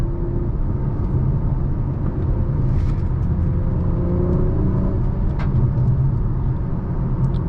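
A 2023 Acura TLX Type S cruises through turns, its steady engine rumble and road roar heard from inside the cabin, loud and continuous with slight swells as it corners.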